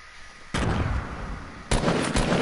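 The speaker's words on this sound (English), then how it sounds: "Why'd you shoot?" Heavy booming gunfire or explosions in a video game, two or three loud sustained blasts with a long rumbling tail, close and alone without talk.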